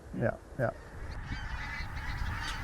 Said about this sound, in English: now it's fully light and we can see huge numbers of geese flighting overhead